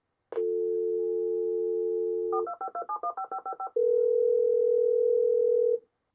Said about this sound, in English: it waits for a dial tone before dialing